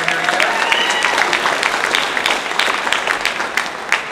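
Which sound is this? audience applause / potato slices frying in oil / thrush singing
audience applause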